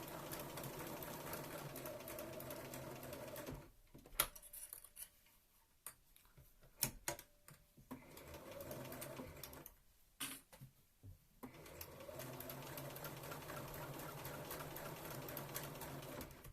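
A sewing machine stitches a Regency dress in steady running bursts, with a few short pauses and clicks where the stitching stops and restarts before the motor resumes.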